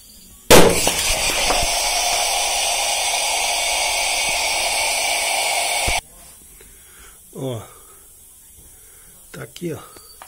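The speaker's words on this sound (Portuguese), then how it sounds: "O que explodiu aqui foi a tampa de fora" A shower heater's pressure-part outer cover bursts with a sudden loud bang, followed by a steady hiss that lasts about five seconds and then cuts off. Brief voices are heard afterward.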